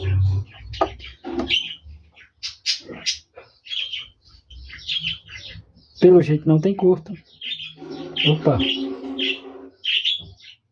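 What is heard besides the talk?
small bird singing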